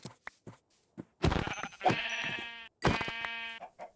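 Sheep bleating in Minecraft, a few soft clicks and taps, then two loud wavering bleats close by with a short gap between them.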